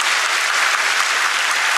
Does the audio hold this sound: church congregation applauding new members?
yes